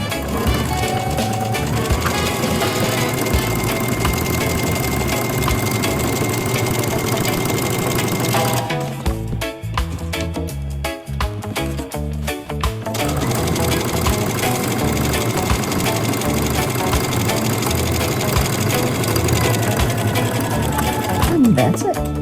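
A sewing machine top stitching a bag runs loud and close in a rapid steady whir for long stretches, stopping briefly near the middle before starting up again.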